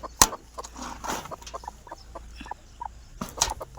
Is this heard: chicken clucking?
yes